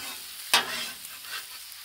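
Onion, bell pepper and celery sizzling on a Blackstone griddle, a steady close hiss with one sharp scrape or toss early on, no talking.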